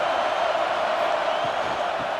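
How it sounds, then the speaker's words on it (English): A stadium crowd roars in a video game college football match between Ole Miss and Georgia, a dense and continuous wall of noise rising as the defense tries for a red zone stop, loud and unbroken, with no other clear sounds on top. "And here comes the noise. This crowd is trying to inspire this defense to make a big red zone stop"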